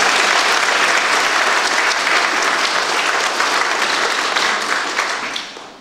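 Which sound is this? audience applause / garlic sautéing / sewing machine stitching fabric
audience applause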